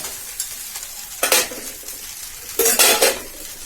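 Food frying in a pan is stirred with a utensil, giving two loud bursts of scraping and clattering against the pan over a continuous close sizzle, with no voices.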